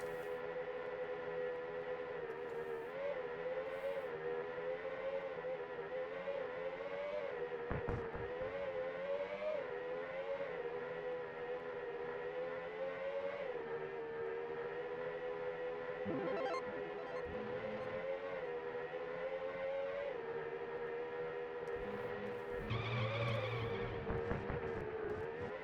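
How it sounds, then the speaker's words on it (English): A SNES racing video game's engine drones loudly and continuously, its pitch rising and falling, with brief tire screeches cutting in near the end. "Engine sounds and tire screeching sounds."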